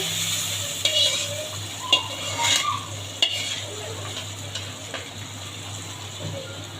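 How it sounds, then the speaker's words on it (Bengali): Boiled mung dal tipped into beef fat fried in a pan brings a loud, close, continuous sizzle, with a few clanks and scrapes of a spoon against the pan as it is mixed. "আগে থেকে মুগ ডালটা সিদ্ধ করে রেখেছি ওইগুলো দিয়ে দেব কষানো চর্বির ভিতর"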